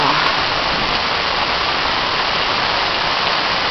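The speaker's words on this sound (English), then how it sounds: "That's a fucking rainstorm." Heavy rain from an evening thunderstorm after a humid day pours down in a loud, constant hiss of drops hitting surfaces nearby, filling the whole stretch without a break.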